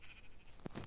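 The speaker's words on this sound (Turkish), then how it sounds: "Koyun." Sheep bleating in the video game Minecraft, played on mobile: one short, faint bleat after a brief moment of soft background sound.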